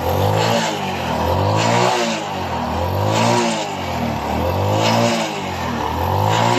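A Rusi 100 motorcycle engine, just fitted with a new head gasket, revs repeatedly, rising and falling in steady loud surges, close by and continuous throughout.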